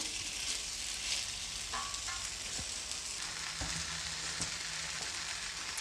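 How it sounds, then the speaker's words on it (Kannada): Jeera akki rotti, a cumin-flecked rice flatbread, fries in ghee on a hot pan, giving a continuous soft sizzle with occasional taps and scrapes, faint and close, with no talking. "ಇವಾಗ ನಾವು ತಟ್ಕೊಂಡಿರುವಂತಹ ರೊಟ್ಟಿನ ಹಾಕ್ಕೊಳ್ತಾ ಇದ್ದೀನಿ"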